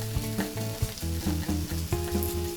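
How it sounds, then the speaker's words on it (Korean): Shredded potatoes sizzle in hot oil in a preheated frying pan, a steady crackling fry with scraping and stirring noises, close and with no talking. "팬이 뜨끈뜨끈해지면 여기에 채 썰어둔 감자를 넣어줍니다."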